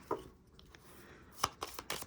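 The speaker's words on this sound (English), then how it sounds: "one more shuffle, and I'll pull from the top" Tarot cards shuffled by hand in a few short bursts, crisp riffling flutters close up and fairly faint, separated by quiet pauses with no talking.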